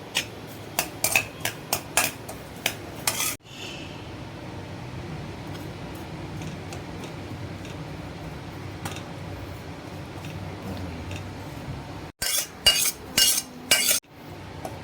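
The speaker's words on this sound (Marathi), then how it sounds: "खसखस देखील आपण खरपूस भाजून घेऊ." Poppy seeds dry roasting in a pan, with sharp clinks of a spoon against the pan at the start and end and a steady soft hiss in between.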